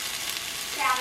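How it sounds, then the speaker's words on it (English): Fried rice of carrots, onion, garlic, peas, cabbage, chopped shrimp and egg sizzles steadily in a hot pan, a close, bright frying hiss that swells slightly near the end. "I have everything in the pan kind of sizzling up"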